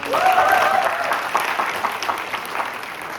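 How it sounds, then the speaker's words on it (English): An audience at a college play breaks into warm applause, a full, continuous patter of many hands that swells at first and then eases, with a brief voice rising over the start. "So big round of applause for her."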